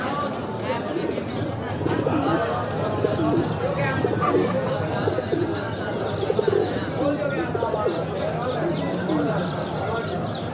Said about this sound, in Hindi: ये देखें जी